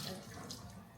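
Tap water running into a sink while hands are washed during chicken marinating in a home kitchen, a brief, soft, steady splashing rush.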